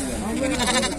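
A sheep bleats once, close and fairly loud, at the busy Fuzuli sheep and lamb market, with a dense bed of crowd noise beneath the call.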